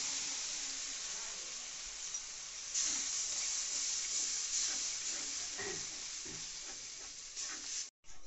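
Marinated gram flour batter fries in a hot kadai with a steady, close sizzling hiss that holds for several seconds, the spitting crackle briefly cutting out near the end.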